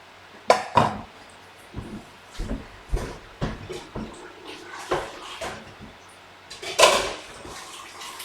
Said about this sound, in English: go give the mince a quick stir